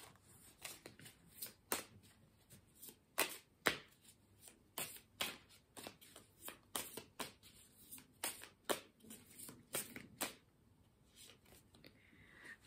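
Oracle cards are drawn and shuffled by hand, a quiet close series of crisp riffling flicks and slaps in irregular bursts, with no talk.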